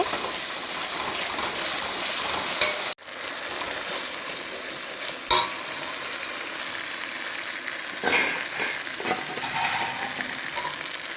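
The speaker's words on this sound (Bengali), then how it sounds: "আলুগুলো ভেজে নিই" Potatoes fry in hot oil in a pan for a vegetarian Bengali meal, a steady close sizzle broken by a couple of sharp clunks as they are moved about, with no voices.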